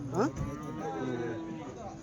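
A cow moos loudly and close by at a weekly cattle market, one long drawn-out call with a rising start, then a lower sustained tone fading out.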